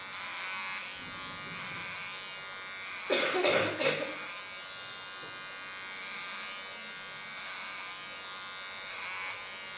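An electric hair clipper shaves the nape during a salon haircut, giving a steady close buzz with a short, louder burst partway through.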